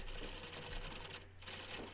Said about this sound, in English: I like using the 1/2 inch gouge for this particular cut